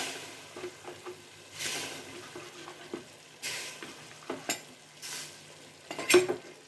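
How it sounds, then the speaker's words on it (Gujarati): Cut vegetables go into a pan already holding potatoes and turmeric for a Gujarati methi gatta curry, followed by a series of spoon scrapes and stirring clatter with a soft sizzle between the strokes. "ત્યારબાદ આ જે કટ કરેલું શાકભાજી છે તે નાખી દઈએ।"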